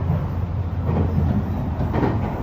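Japanese scenic train running along the Sea of Japan between Akita and Aomori, a continuous close rumble of wheels on rails heard from inside the carriage, with a few soft rhythmic clacks and no talking.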